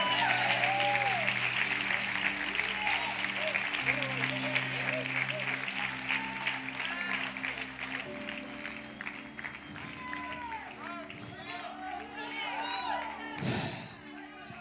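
Sustained applause and cheering from a large crowd at a church congress, loud and continuous, with whoops rising above it and music playing underneath.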